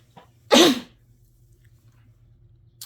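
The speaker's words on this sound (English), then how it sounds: "Oh, I had to sneeze, excuse me." A single sharp sneeze from a woman sitting close to the microphone while making beaded necklaces, over a low steady hum, then quiet.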